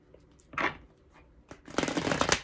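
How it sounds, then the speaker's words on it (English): Tarot cards being shuffled by hand, a short riffle near the start followed by a longer, denser burst of rapid flicking and snapping, close and fairly quiet with no talking. "Now, let me get the actual cards shuffled."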